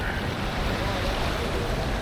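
Sea waves washing up onto the shore along the Paphos sea front, a continuous loud rush of surf and water mixed with steady wind buffeting the microphone, no distinct breaks between swells.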